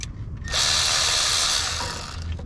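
A Milwaukee power ratchet removes alternator bolts on a 2015 Chevy Impala, spinning up with a steady loud whirring buzz for about two seconds before easing off, close to the engine bay.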